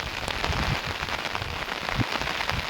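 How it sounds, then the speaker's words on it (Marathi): Monsoon rain pours in the evening at Dajipur. The heavy, steady downpour patters densely on nearby surfaces, with scattered louder drops and no voices. "पूर्ण भागामध्ये पाणी होईल अशा पद्धतीचा पाऊस सुरुवात झालेली आहे."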